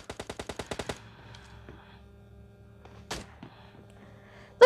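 A rapid burst of about eight shots from a new gun in PUBG fires in quick succession, then a quieter stretch with a single sharp shot and a loud hit at the end, no talking.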